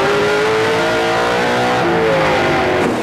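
Race cars in the Pizza Pizza 300 roar and accelerate on a short oval track, loud continuous engine drone with rising pitch as throttles open, filling the whole stretch without talk.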